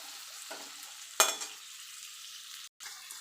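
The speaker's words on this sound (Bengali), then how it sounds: "এবার এখানে আমি দিয়ে দেবো ক্যাপসিকামটা ক্যাপসিকামটা দিয়ে মিনিট খানেক একটু নাড়াচাড়া করে নেব" Capsicum stir-fried for chilli chicken gives a low, quiet sizzle in the pan, broken by a sharp scrape of a spatula and a couple of softer stirring sounds, with a brief dropout near the end.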